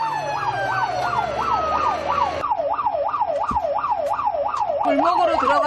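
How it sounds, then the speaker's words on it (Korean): A Korean fire truck races to a call with its siren wailing in fast rising-and-falling sweeps, loud and unbroken over the rumble of traffic. A second, lower siren tone joins near the end. "소방차 하대 출동합니다. 차량 정지하세요."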